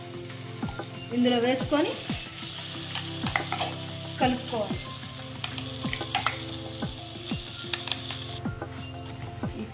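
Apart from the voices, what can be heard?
stirring gongura peanut chutney in a pan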